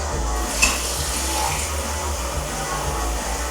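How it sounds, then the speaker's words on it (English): Water runs steadily from a tap, a constant rushing splash with a low hum underneath, no talking. "tap water."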